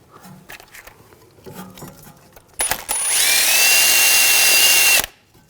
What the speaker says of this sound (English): if it's got a little bit of excessive rust, you want to clean that up with a wire brush